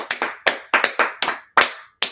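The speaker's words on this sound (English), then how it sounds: "Let's clap it up for everybody, man" A few people clap in short, uneven bursts of three or four sharp claps with brief gaps between, close and fairly loud, with no talk over them.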